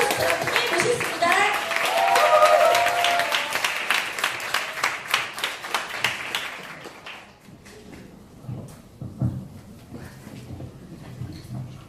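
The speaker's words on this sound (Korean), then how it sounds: "큰 박수로 모시겠습니다" Seminar audience gives a brisk round of clapping to welcome a speaker, dense at first, then thinning into scattered claps as a voice talks over it.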